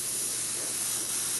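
A spray gun sprays primer in a short burst for a model landing pad, a steady loud hiss lasting just over a second before cutting off sharply.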